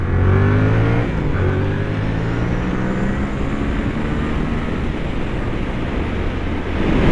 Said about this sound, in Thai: เป็น MT07 เครื่องสองสูบนะฮะ อัตราการเร่งเนี่ยก็เลยจะเร็วนิดหน่อย